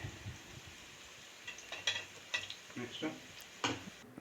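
A ladle stirs onions and green chillies frying in hot oil, with soft scrapes and clinks against the pan over a low sizzle, scattered quietly across a few seconds with no talking.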